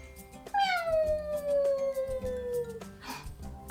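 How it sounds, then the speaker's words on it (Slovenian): A small white kitten gives one drawn-out, falling meow of about two seconds, close and clear, set against a soft background of cartoon music. "Mucek mijavka."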